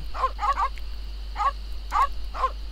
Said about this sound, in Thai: ก็ลองใช้เนื้อนี้กับสุนัขดู